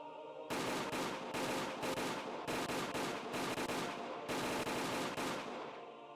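Rapid machine gun bursts in Higurashi When They Cry roar in several long volleys separated by short gaps, loud and dense, with no speech.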